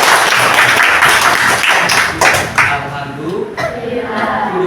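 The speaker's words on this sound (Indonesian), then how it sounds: "Tepuk tangan semuanya." Pupils in an Indonesian classroom clap their hands together in a loud, dense burst that fades toward the end, with voices mixed in.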